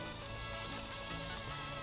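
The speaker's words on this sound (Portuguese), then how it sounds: "Vamos colocar mais uma manteiguinha, mais um olhinho," Butter sizzles and fries steadily in a pan while chicken risotto is being cooked, a dense, even crackle that stays loud and continuous throughout, with no voices over it.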